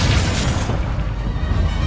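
A Bombarda spell blasts in Hogwarts Legacy with a loud, close boom, a dense crash of debris and rumble that fades into a lingering low roar.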